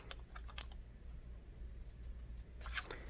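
Scissors snip through paper along dotted lines in quick, faint, close cuts, with short pauses between clusters of snips.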